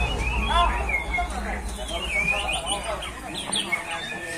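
A white-rumped shama (murai batu), a young bird in the junior class of a songbird contest, sings a run of varied whistled phrases amid steady crowd chatter and background noise at the hanging area.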